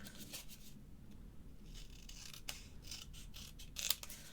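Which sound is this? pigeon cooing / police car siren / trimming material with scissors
trimming material with scissors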